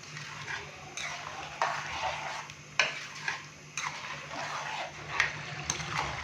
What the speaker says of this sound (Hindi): हाई फ्लेम पे हम दाल माश को 5 से 7 मिनट अच्छे से भून लेंगे।